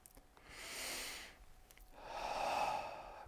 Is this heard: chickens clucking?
no